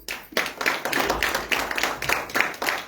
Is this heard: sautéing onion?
no